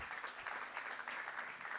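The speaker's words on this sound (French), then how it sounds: "Sous vos acclamations, nous applaudissons pour Papa Bob et Maman Christelle." Steady audience applause at a church event in Goma, a dense wash of clapping that holds at an even level throughout the short stretch.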